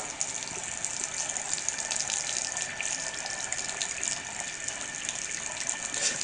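Hot water gushes steadily from a tap while hands are washed, a continuous loud hiss of running water that stays even from start to finish.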